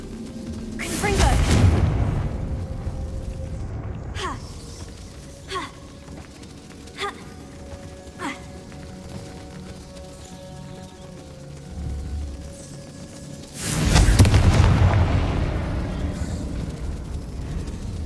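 Confringo fire spells in Hogwarts Legacy set off two loud, booming explosions with a rumbling decay, a few seconds apart at the start and near the end. Smaller clicks and impacts fall in between.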